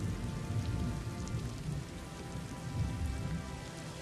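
Rain falling in the Shenandoah mountains, a steady broadband patter of raindrops on surfaces with a low rumbling undertone, continuous and fairly close, no speech.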